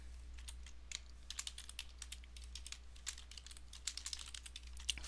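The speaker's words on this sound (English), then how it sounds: "I'm just going to type in everything I see." Steady typing on a computer keyboard while entering table fields in LibreOffice Base, quick irregular key clicks running throughout over a low steady hum, close and fairly quiet with no talking.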